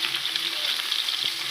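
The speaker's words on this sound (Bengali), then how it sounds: "এবার মাছগুলো এক এক করে ভেজে নেব।" Fish pieces coated in salt and turmeric fry in hot oil, giving a bright, dense, continuous sizzle that stays close and loud for the whole short moment.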